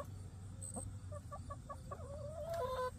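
Backyard chickens cluck softly in short, bobbing bursts, a few quick notes and a rising call near the end, faint against a low steady outdoor hum.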